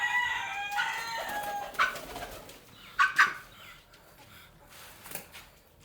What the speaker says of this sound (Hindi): मुझे लगा शायद चूचू की आवाज़ आ रही, लेकिन नहीं, इनकी नहीं, वो पिजन्स के बच्चों की थी